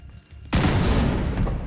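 A grenade explodes in The Division 2 video game: after a quiet half second, a sudden loud blast bursts in and rolls on as a thick, rumbling roar that stays heavy to the end.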